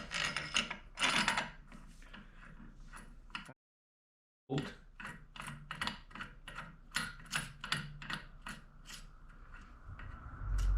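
A ratcheting torque wrench tightens the bolt on a CVTech Powerbloc 80 clutch, giving repeated close, crisp clicks in quick bursts, broken by a short silent gap, with faint mechanical rubbing.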